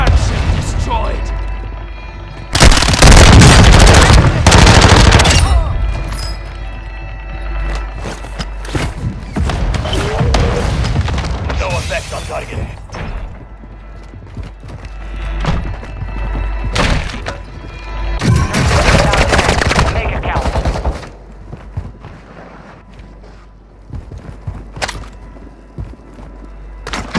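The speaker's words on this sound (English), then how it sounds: "Mortar strike underway" Mortar strike explosions in Call of Duty on Ashika Island: a loud, heavy blast with a crashing burst around the third to fifth second, then further rumbling impacts and debris at a distance, with another strong hit near the twentieth second.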